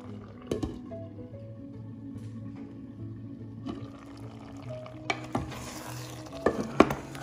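Onion and tomato curry cooks in a pan, a low sizzle under intermittent spoon scrapes and clinks, with a few sharper knocks and a brief pour near the end, close and fairly quiet.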